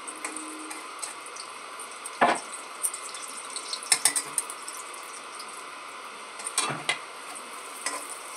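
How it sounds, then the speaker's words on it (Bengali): A stuffed paratha fries in a generous amount of oil in a wok, giving a steady, moderate sizzle broken by a few sharp spatula scrapes and clatters. "একটু বেশি করে তেল দিয়ে ভাজলেই ভালো লাগবে"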